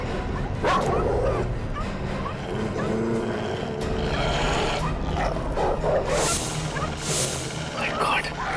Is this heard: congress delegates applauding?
no